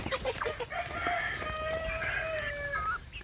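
Free-range village chickens and chicks peck at feed in a special open run, with a busy mix of close clucks, peeps and drawn-out calls and no talk.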